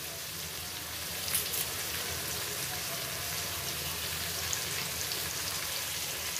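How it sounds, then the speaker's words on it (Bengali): Potato and pointed gourd fry in oil in a pan, a dense, steady sizzle like light rain that runs unbroken and fairly loud, with no talk over it. "দেখো আলু আর পটলটা খুব সুন্দর করে ভেজে নিয়েছি।"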